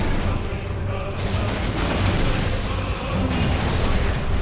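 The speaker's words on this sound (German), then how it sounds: "Und Explosion." A dense, rumbling explosion in Final Fantasy XVI during the Ifrit versus Lost Titan battle, with a sustained low roar and crackling debris, loud and close, with no one speaking.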